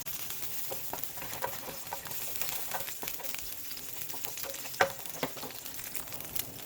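Sliced garlic fries in oil with rosemary leaves in a pan for a simple meatless pasta, a soft, steady sizzle with light crackles and stirring clicks, plus one sharper knock.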